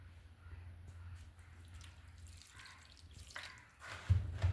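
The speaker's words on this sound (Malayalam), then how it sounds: "വെള്ളം ഒഴിക്കാം." Water poured into a pot for fish curry in a home kitchen, a faint trickling and dripping that swells into a louder, heavier splash near the end.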